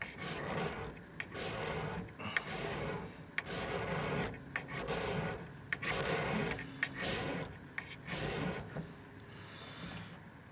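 A ferrocerium rod is scraped repeatedly to light a candle, giving a close, steady rasping with short sharp strikes scattered through it and no talk.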